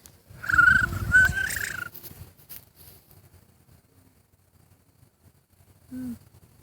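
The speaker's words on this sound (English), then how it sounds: "There's seagulls everywhere." Seagulls call outdoors in a loud, harsh cluster of cries early on, fading into quieter background noise before one short call returns near the end.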